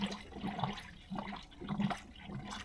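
Coolant gurgling and bubbling as air burps out while a 1998 Chevy K3500 radiator is topped off, soft irregular glugs in close, uneven pulses, fairly quiet.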